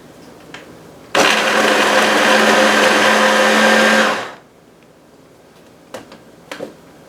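A food processor whirs loudly while blending a gluten-free, dairy-free Italian meatball base, a steady motor roar lasting about three seconds before winding down, followed by a few faint clicks and knocks.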